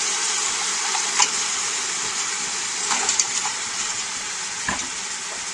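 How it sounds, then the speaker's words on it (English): Vinegar poured into a hot pan while cooking coconut curry crab, a steady loud sizzle and hiss of frying with a few soft stirring clicks throughout. "now, add 3 tablespoons of vinegar"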